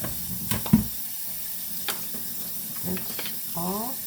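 Beans rinsed under a running kitchen tap to wash off baking soda, a steady hiss of water with a few clatters and splashes up close, and a voice speaks briefly near the end.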